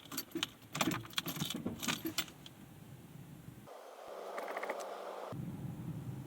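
Keys jangle close by for a couple of seconds as a 1988 EVcort electric car is switched on. A quiet, steady electrical hum from the car follows.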